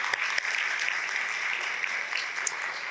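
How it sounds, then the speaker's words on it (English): Steady applause fills a business awards ceremony as the audience claps for the event's partners, a dense even patter of many hands at moderate distance with no voices over it. "Again, let's have a round of applause for all our great partners."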